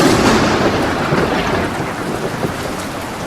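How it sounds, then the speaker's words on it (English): Heavy rain pours steadily during a thunderstorm, with low rumbling thunder rolling underneath throughout, loud and enveloping. "On the 4th night, the storm hit."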